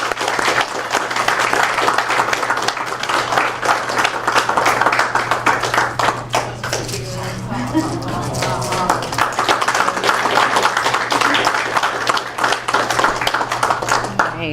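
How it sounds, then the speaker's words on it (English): Audience applause at a farmers market dinner in Dunkirk, New York, as a market manager is welcomed: dense, sustained clapping from a room full of people, loud and continuous throughout with a low steady hum beneath. "Everybody, please give her a huge round of applause."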